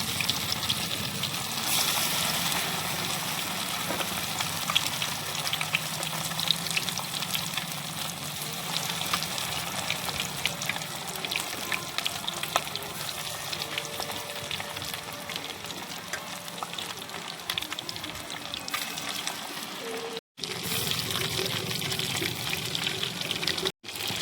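Fish pieces frying in hot oil in a kadai, a steady, dense sizzle and crackle running continuously at close range, briefly cutting out near the end.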